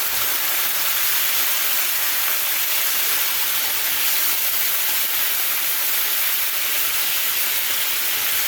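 Meat sizzling in a nonstick pan, a dense, steady frying hiss that holds evenly throughout with no voices.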